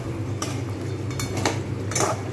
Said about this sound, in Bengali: ভাজাটা সুন্দরভাবে একটু নাড়িয়ে ভালোভাবে ভাজা